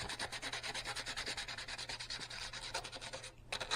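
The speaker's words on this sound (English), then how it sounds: "I've got 240 grit sandpaper and a blank. All you're looking to do is scuff it up." A plastic shad lure blank being scuffed with 240 grit sandpaper, a rapid, quiet rhythmic rasping of back-and-forth strokes, close and alone.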